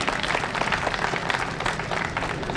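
An audience at a kavi sammelan, a Hindi poetry gathering, applauds in a dense, continuous wash of clapping that stays level and fairly loud throughout.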